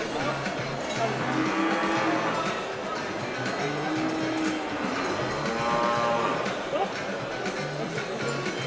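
Cattle at a livestock show, the Sommet de l'Elevage, lowing in drawn-out moos amid a busy crowd hum, with people talking nearby throughout.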